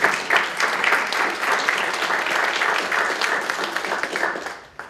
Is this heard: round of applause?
yes